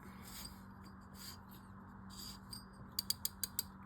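The drag knob on a first-generation Penn Spinfisher 704Z spinning reel is tightened, faint soft mechanical turning followed by a quick series of five crisp clicks near the end, close and without talk.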